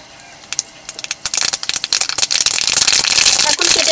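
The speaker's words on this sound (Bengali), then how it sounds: "কাঁকড়ার টক রান্নার জন্য এই তেলে ফোড়ন দিয়ে দেবো শুকনো লঙ্কা ও সরিষা।" Dried red chillies and mustard seeds hit hot mustard oil for tempering, starting as scattered pops and building into a dense, loud, continuous sizzle and crackle close by.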